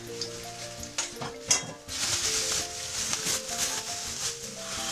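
Beef frying in a hot wok-style pan for a beef cheek stew, giving a steady, crackling sizzle that runs the whole time, with a faint tonal background hum or music underneath.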